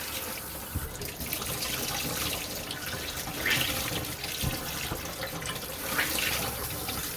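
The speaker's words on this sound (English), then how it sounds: "Switch to hot water." Water runs steadily from a sink tap, switched over to hot, during ice-dye fabric work; a continuous close splashing stream with slight surges and no talking.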